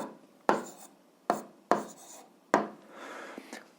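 A pen writes a math answer on paper up close, giving four or five quick scratchy strokes with short pauses between them in an otherwise quiet room.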